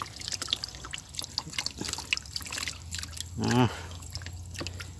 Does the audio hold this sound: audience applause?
no